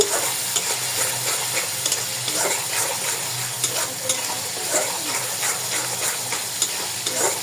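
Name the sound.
frying and stirring spice paste in oil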